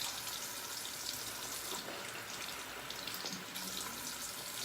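Water runs from a tap in a steady hiss, being added to shaving soap, continuous and fairly close, with faint clinks under the flow.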